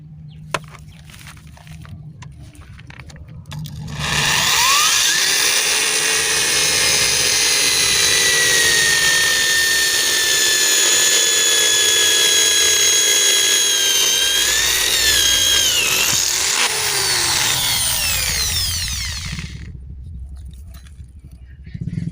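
A power drill fitted with a carbide multipurpose bit bores into concrete, a loud steady grinding whine with shifting tones that starts abruptly, holds for about fifteen seconds and then cuts off.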